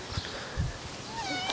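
A cat gives a short meow up close, a brief wavering call lasting about a second amid a few soft thumps.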